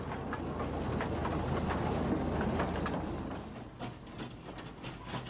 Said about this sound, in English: A train running on lightly laid, narrow gauge rails.